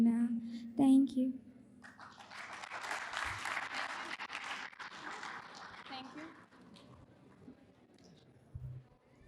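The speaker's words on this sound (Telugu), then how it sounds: "సో మరొకసారి గట్టిగా చప్పట్లు మా చిన్నారికి" An audience at a Ugadi celebration claps warmly for a young girl after her devotional song, the applause swelling and then fading over several seconds, with a voice speaking at the start.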